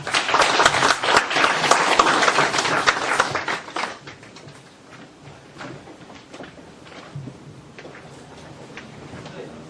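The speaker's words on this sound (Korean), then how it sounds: "큰 환영의 박수 부탁드립니다." An audience at a philosophy colloquium lecture claps loudly for about four seconds, then the applause thins to scattered claps and fades as a voice begins speaking.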